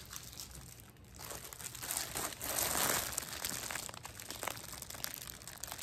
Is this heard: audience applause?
no